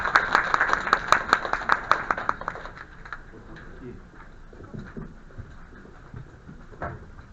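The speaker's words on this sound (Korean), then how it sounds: "박수를 받아주십니다." Audience applause at a university admissions briefing, a few seconds of brisk, sharp clapping close by that quickly fades into quiet room noise with faint shuffling and a speaker beginning to talk.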